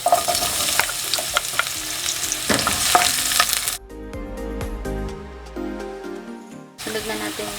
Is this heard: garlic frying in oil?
yes